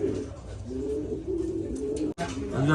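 Crested short-face fancy pigeons coo close by in a steady run of low, throaty, rolling calls, with one brief break near the end before the cooing resumes.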